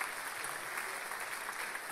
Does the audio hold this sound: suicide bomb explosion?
no